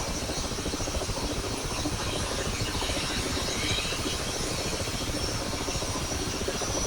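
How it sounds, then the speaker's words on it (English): Mi-8MTV2 helicopter right engine starting in a cold start, a steady broad whine and hiss from the turbine spinning up, continuous and even throughout. "then we'll flick that switch to the right and start the right engine"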